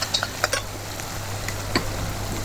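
Chopped onions stirred and sautéed in oil in a pan for a steamed meat cake: faint scattered clinks of a spoon against the pan over a low steady background hiss.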